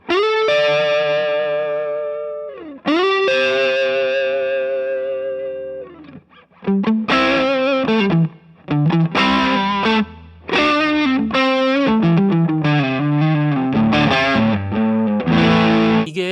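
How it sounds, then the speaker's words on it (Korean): An electric guitar through a DigiTech Bad Monkey overdrive pedal plays two long sustained chords, then a gritty, busy riff of single notes and bends, loud and alone. "자, 그 다음 디지텍의 배드몽키입니다."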